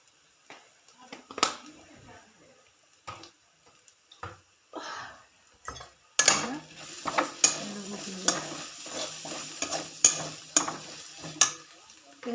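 Red chilli, goda masala and chopped cabbage are stir-fried in a pan. Spatula scrapes and knocks come in bursts, first sparse and then busier over a louder sizzle, with some talk in between.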